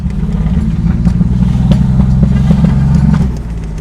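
A Toyota Supra's engine revs loudly and close, with sharp exhaust pops and crackles scattered through the dense low growl as it shifts gears, before the sound drops off near the end.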